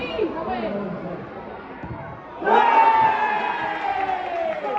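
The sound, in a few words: football crowd cheering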